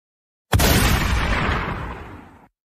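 A single sharp BB gun shot bursts out, loud and close, then tails off into a fading noisy decay over about two seconds.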